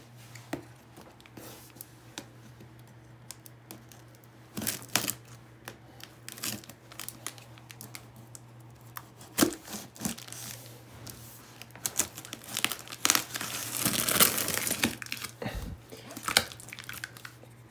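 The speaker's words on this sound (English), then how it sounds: "Let's cut open the box." A Harbor Freight Doyle anvil's cardboard box is cut open with scattered scraping, tearing and crinkling noises, close and fairly quiet, with no talk.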